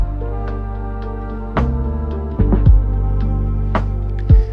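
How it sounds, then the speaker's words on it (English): Dramatic cinematic thuds land in a lofi beat: a few deep, heavy hits strike over sustained, mellow harmonic chords, and the track carries on evenly between them. "rises and dramatic thuds throughout the track."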